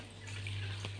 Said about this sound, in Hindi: अब ठंडे पानी से थोड़ा इसे धो लेंगे।